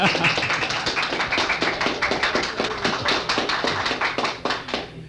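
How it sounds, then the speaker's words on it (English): An audience at a private 1948 a cappella performance for executives applauds, with close, fairly regular handclaps carrying steadily through the whole stretch. "Now with that, do you want to applaud Mr. Bush?"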